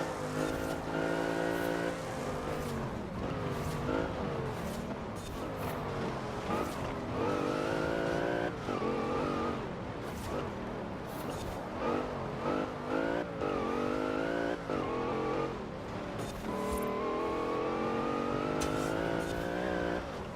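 A Volkswagen Golf on winter tires races in the Forza Horizon 4 video game, its engine revving steadily through repeated gear changes with occasional tire squeal, loud and continuous for the whole stretch.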